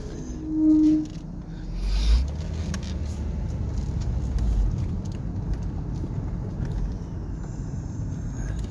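A car on a test ride drives along with a steady low engine and road rumble from inside the cabin, a couple of louder thumps early on and no talking.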